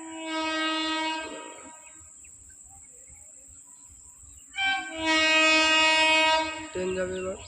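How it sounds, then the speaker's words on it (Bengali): At Palla Road station, a passing train sounds two long, loud horn blasts separated by a quiet stretch with a faint low rumble, and a shorter, lower honk follows at the end. "ট্রেন যাচ্ছে, আটকে গেছি এখানে বলতে গেলে।"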